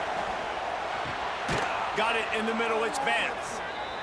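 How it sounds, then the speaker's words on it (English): A stadium crowd roars steadily in an American football video game, Atlanta Legends at New Jersey Generals, a broad wash of noise that swells slightly midway while a voice talks over it. "The roar of the crowd trying to fuel this defense to keep them pinned in their own end."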